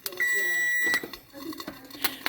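A kitchen timer gives a single long electronic beep while eggs fry in a pan, followed by clattering and soft handling noises with a couple of short clicks.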